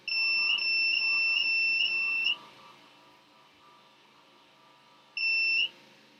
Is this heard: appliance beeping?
yes